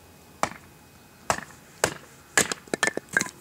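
An axe or heavy machete splits wood into kindling with sharp, woody cracks, a few spaced single chops followed by a quicker cluster of splintering strikes, close and crisp.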